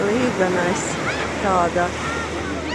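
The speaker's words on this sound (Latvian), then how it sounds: "līganais vilnis kā okeāna elpa" Ocean waves surging onto shore, a broad steady wash of surf filling the background at moderate loudness, heard under continuous chirping birdsong and someone speaking.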